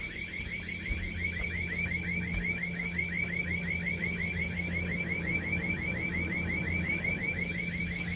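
A DSC G4W alarm siren wails through the floor in a rapid repeating warble, heard muffled and steady from below over a constant low hum, with no one speaking.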